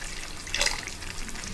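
Water poured into an egg masala curry with yogurt in the pan, a brief splashing burst lasting well under a second, set against quiet kitchen background.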